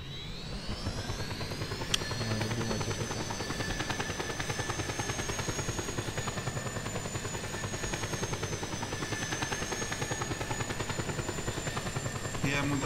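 Helicopter in the video game Just Cause 2, a steady rotor drone with a high engine whine holding throughout, loud and continuous with a sharp click near the start.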